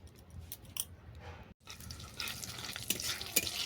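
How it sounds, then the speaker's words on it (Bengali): Bay leaf and cumin seeds frying in oil in a wok for tempering, a soft close crackle and spatter with occasional stirring clicks, a brief drop out midway, and no voices. "আমার ফোড়ন ভাজা হয়ে গেছে, জিরে সব মুখগুলো ফেটে গেছে।"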